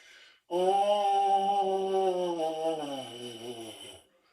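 A baritone mouthpiece buzz holds a steady tone, then sags lower in pitch as the player runs out of air, a single sustained note of about three and a half seconds, close and alone.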